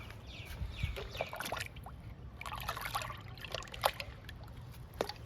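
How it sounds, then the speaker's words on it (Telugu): Liquid fertilizer trickles and splashes as it is poured onto potted jasmine plants, a close, steady dribble of water with a few sharper drips, with no talking. "విరజాజుకి కావడా మల్లెకి ఈ 2 మొక్కలకి ఇచ్చేద్దాము లిక్విడ్."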